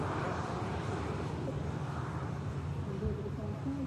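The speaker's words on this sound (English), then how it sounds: "Dreamliner looks like it's heading straight out" A Boeing 787 Dreamliner climbing out from Manchester Airport, a broad continuous jet roar holding steady at a distance, with faint talk and background noise mixed in.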